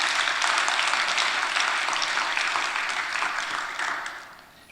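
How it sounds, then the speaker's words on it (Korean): Sustained applause from a church congregation after the choir's performance, dense and steady throughout before tapering off at the end. "박수를 한번 뜨겁게 쳐주세요."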